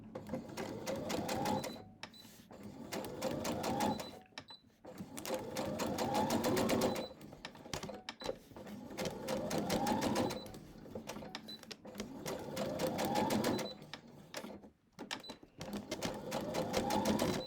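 A sewing machine stitching a quarter-inch seam on strips with paper foundation, running in steady rapid bursts of several seconds separated by brief pauses, close and moderately loud.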